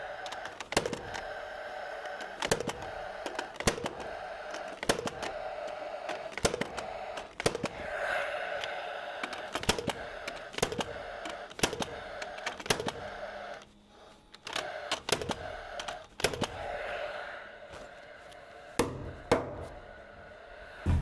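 Beck America Fasco F70G nailer driving 2.5 inch nails to fix a joist hanger to a beam: a long, irregular series of sharp, loud cracks, several per few seconds, over a steady mechanical hum.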